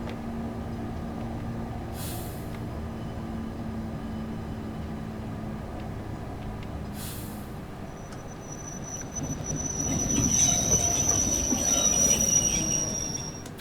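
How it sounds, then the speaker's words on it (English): A video game train rumbles steadily, then brakes with rheostatic braking, rising noise and a long, thin metallic squeal of wheels as it slows. "Just going to use rheostatics to brake us."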